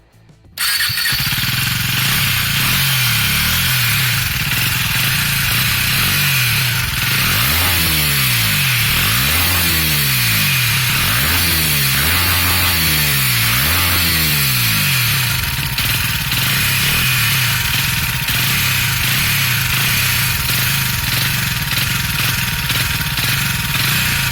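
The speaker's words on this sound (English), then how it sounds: "Here is how the exhaust note sounds when the bike is static." A 2017 KTM 250 Duke sits stationary at a loud, steady idle. Its exhaust is blipped through a series of rising and falling revs in the middle stretch before it settles back to idle.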